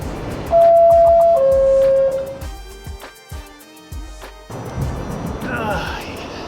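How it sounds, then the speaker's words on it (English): A New York City subway train that once ran on the Rockaway Shuttle rumbles along the A line, its steady running noise broken by a loud tonal whine and a few clanks, with voices talking at times. "riding on a train that used to serve the Rockaway Shuttle"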